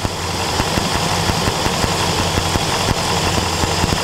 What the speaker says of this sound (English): Okay, you also heard the idle come down.